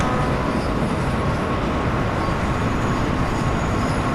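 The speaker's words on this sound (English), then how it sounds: "I'm just going to let the train coast" A DB BR 155 electric locomotive coasting in Train Sim World makes a continuous loud rolling rumble of wheels on track, steady and unbroken, with a faint high whine above it.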